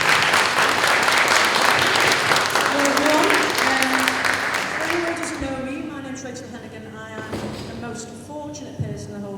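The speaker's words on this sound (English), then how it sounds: "if we could just a round of applause for Rachel Archie" A sustained burst of audience applause at a celebration event honouring inspirational women, loud and dense at first, then thinning out into scattered claps with faint voices and tones underneath.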